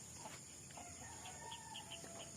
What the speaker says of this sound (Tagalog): Ang ingay ng mga chicken yung mga manok ko nagsiliparan.